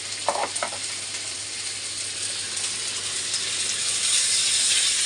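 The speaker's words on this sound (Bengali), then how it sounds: "তাই এই চপারটার মধ্যে পেঁয়াজ, আদা, রসুন, কাঁচা লঙ্কা সব কিছু চপ করে নিলাম।" A hand-pulled cord chopper minces onion, ginger, garlic and green chilli, giving a few quick ratcheting pulls near the start, then a steady, fairly loud whirring hiss that carries on alone.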